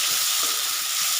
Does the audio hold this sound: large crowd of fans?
no